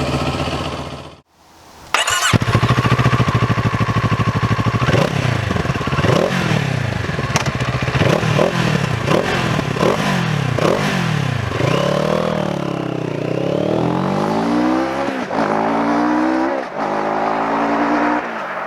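A 2022 CFMOTO 700 CL-X motorcycle starts up and pulls away on a road, its engine revving up and down through repeated gear changes, loud and close, with wind noise growing as it speeds up.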